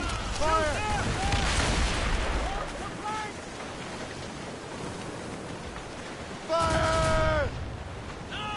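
Ship cannons fire in Assassin's Creed Rogue, heavy booming blasts over crackling battle noise, with a second loud volley later and shouting voices mixed in.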